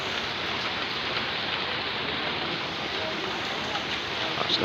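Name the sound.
heavy rain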